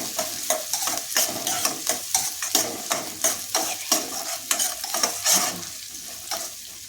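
Finely chopped garlic added to translucent onions sizzles in a pan while being stirred for pepper rice, with loud rhythmic scraping strokes over a steady frying hiss.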